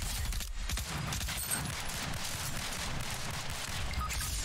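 Dense, continuous gunfire in the Fortnite video game, a rapid sustained burst of shots at steady loudness for several seconds with no pauses.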